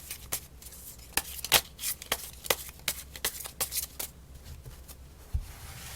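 Tarot cards being shuffled in a quiet room, a run of crisp riffling snaps and flicks at uneven intervals, close and moderately loud, with no talking.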